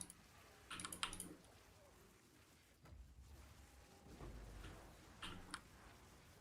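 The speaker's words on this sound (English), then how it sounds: "A keyboard sounds pretty good." Quiet clacking of a SteelSeries mechanical keyboard with MX Red switches during a PC game session, short irregular bursts of keystrokes separated by pauses, close and faint, with low background noise.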